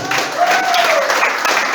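A church congregation applauds, with steady dense clapping from a crowd that fills the whole stretch at full loudness.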